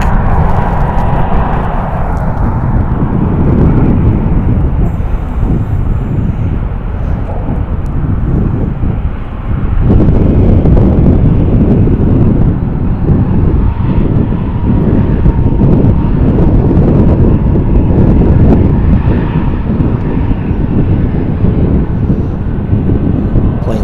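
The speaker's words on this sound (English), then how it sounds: "Short and final, we're going to have Southwest Airlines 1668 coming in from Fresno." Southwest Airlines jet from Fresno on short final landing at Las Vegas Harry Reid International Airport in gusty wind, a loud continuous engine roar mixed with heavy wind buffeting on the microphone throughout.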